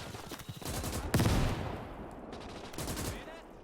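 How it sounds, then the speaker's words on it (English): Mortar fire during a battle in the WWII Eastern Front game Call to Arms Gates: a loud, deep blast near the middle, set among rattling gunfire bursts and a dense rumbling din. "Wow, the mortars, man."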